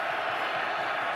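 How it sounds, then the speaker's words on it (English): A football stadium crowd at an XFL game between the Seattle Dragons and DC Defenders swells into a loud, dense roar, continuous and broad throughout the short moment. "Crowd getting loud."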